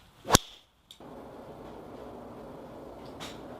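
A TaylorMade M2 driver strikes a golf ball with a single sharp, bright crack near the start, followed by quiet outdoor ambience and a faint later tick.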